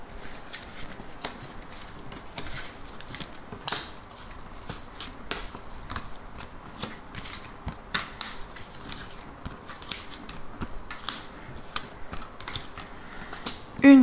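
Oracle cards being shuffled and laid out for a card reading: soft, irregular papery taps and flicks run steadily throughout at moderate closeness, with no talking.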